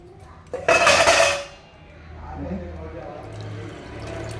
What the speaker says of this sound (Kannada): ಒಂದು ಅರ್ಧ ಕಪ್ಪಷ್ಟು ನೀರು ಹಾಕೋತಾ ಇದ್ದೀನಿ, ಬೆಲ್ಲ ಕರಗಿಸೋಕ್ಕೆ